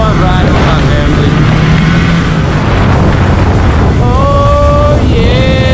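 Snowmobile (sled) riding on snowy trails at night, a loud continuous engine roar with wind buffeting the microphone, pitch rising and falling as the throttle changes, with people talking over it.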